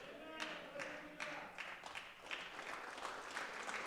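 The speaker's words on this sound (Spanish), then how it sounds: "Aplausos sean para nuestro Señor Jesucristo." A church congregation claps in a loose, uneven patter of hand claps at moderate distance. Faint voices can be heard under the clapping as it continues.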